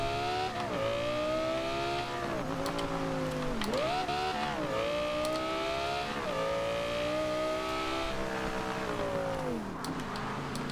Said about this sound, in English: Oh my god, I am in love with this exhaust.